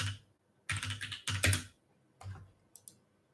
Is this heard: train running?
no